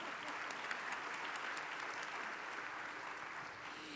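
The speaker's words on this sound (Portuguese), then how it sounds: "Aplausos, gente, por favor." An audience at a talk on empathy and care applauds in a steady, even wash of clapping that sounds somewhat distant and holds at constant strength throughout.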